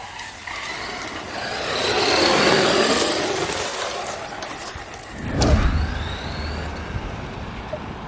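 Ramraider brushed RC car driving over a stony surface, its electric motor whining as it speeds past close by, with a sharp burst of gravel and stones kicked up midway.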